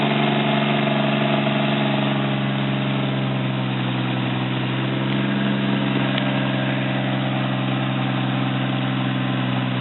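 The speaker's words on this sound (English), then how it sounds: "It's obviously going to idle a little high because it's cold." A turbocharged Lexus IS300 engine idles high while cold, a steady loud droning hum with a constant low tone and no revving, heard up close and alone.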